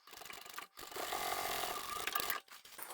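Sewing machine stitching a fluffy fabric bag at reduced stitch length, a steady close whirring run with brief pauses at the start and near the end.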